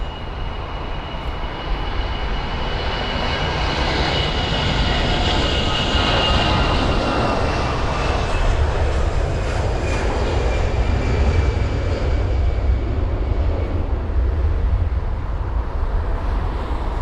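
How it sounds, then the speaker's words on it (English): A Finnair Airbus A320 jet at London Heathrow gives a steady, broad engine roar that holds at an even loudness for about seventeen seconds, with a faint whining tone above it and no voices. "So there's the Finnair A320."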